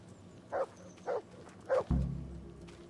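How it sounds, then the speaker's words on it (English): A dog in the video game Kingdom Come Deliverance barks three times in a steady rhythm, each bark short and moderately close. A heavier low thud follows and fades slowly. "There's the good doggy."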